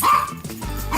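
A small dog at home gives a quick, close yip and bark, loud and brief, with no voices over it.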